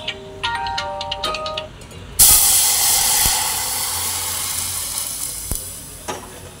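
Water poured into a hot pan while making semiya kesari bursts into a loud sizzle and hiss that fades slowly into bubbling. A ringtone-like electronic melody plays just before, and no one talks.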